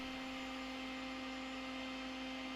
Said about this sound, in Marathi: आता मी हे मिक्सरमध्ये वाटून घेते